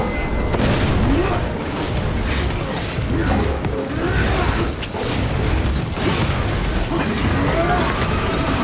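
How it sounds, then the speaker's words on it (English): Frag grenade blasts in the Warhammer 40,000: Space Marine 2 video game land amid a loud, unbroken wall of combat noise, heavy booms and clanking mechanisms running through the whole stretch. "Deploying frag grenades!"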